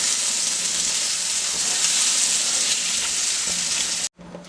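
Prawns shallow frying in a pan for a Kerala-style prawn roast give a steady, dense sizzle close up, which cuts off abruptly near the end before briefly resuming.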